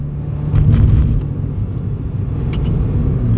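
A Renault Clio IV RS Trophy with its 220 hp engine running, a loud, low, steady rumble heard from inside the car, with a couple of brief faint clicks on top.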